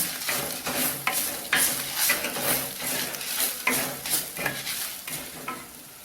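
Onions sautéing and being stirred in a clay pot give off a steady, close sizzle with repeated scraping strokes of a spoon against the pot, alone without talk.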